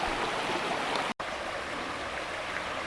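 A forest stream in the Blue Ridge mountains flows with a steady, close rushing wash that stays constant throughout, with only a split-second dropout partway through.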